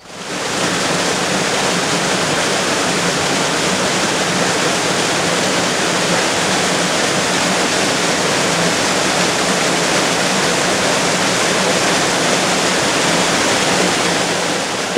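A waterfall on the River Calder roars continuously, a loud, steady rush of falling water with no pauses from start to finish.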